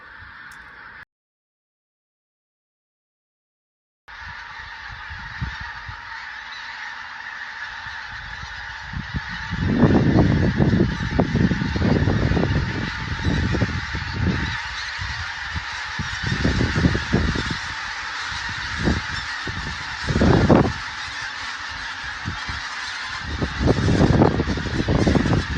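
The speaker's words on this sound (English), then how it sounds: "You can hear all the geese." A large flock of geese honking continuously outdoors in Stirling, Scotland, loud and dense, with overlapping calls over a steady background hum after a brief silent gap.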